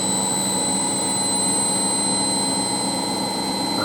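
Ariston Margherita A1635 washing machine spinning at 1200 RPM on a 60°C fast coloureds programme, a loud, steady high-pitched whine over a constant motor hum with no breaks.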